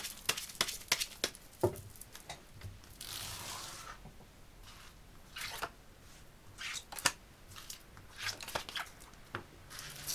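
Tarot cards shuffled and drawn for a reading, a faint, close patter of riffling and sliding card stock with soft taps and rustles, quiet throughout.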